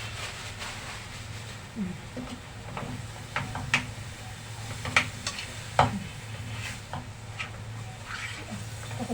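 Minced meat frying in a pan with a steady low sizzle while a utensil scrapes and clicks against the pan as it is stirred, with occasional sharper knocks.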